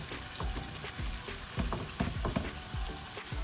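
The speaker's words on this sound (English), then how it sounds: "We need to cook these onions until they are almost golden brown" Onions fry in a pan on the way to golden brown, a constant sizzle broken by repeated stirring scrapes and crackles at a steady close range, with no one speaking.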